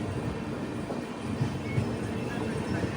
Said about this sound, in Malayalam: ട്രെയിൻ ഇപ്പിത പാടൻ റെയിൽവേ സ്റ്റേഷനിലേക്ക് എത്തുകയാണ്